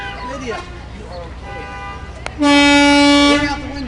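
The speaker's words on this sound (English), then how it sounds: "very enthusiastically honking the horn on some of these vehicles" Horns honked by children on trucks at a Touch-A-Truck event: faint horns and voices in the background, then a loud sustained horn blast near the end that fades out.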